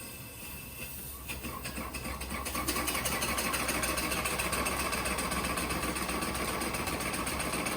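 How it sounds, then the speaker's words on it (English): A small kerosene-fired, dual-cylinder, one-horsepower steam engine runs steadily at a mining museum, giving a continuous mechanical chugging that grows louder after a couple of seconds and then holds a dense, even rhythm. "it used kerosene power to boil the water and to power this little dual-cylinder, single horsepower steam engine."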